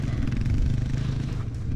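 Trail motorcycle engine, an AJP PR7 or KTM 690 single, pulling uphill in first gear on a dirt trail; a steady, loud, close low-pitched drone with a chattering pulse throughout, no voices.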